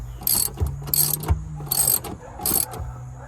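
A ratchet wrench loosens the seat bolts inside a Hyundai Santa Fe, making four close, bright bursts of rapid clicking at an even pace over a low steady hum.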